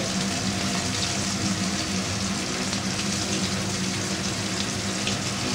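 Black cumin seeds hiss and crackle in hot oil alongside fried fesha fish. The sizzle is a dense, steady wash of sound heard up close, with no voices.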